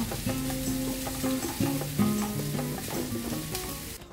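Cornmeal cooks with onion and garlic in a pan while being stirred for fubá suado mineiro. A steady, moderate sizzle runs under a tonal background, with repeated soft stirring scrapes throughout.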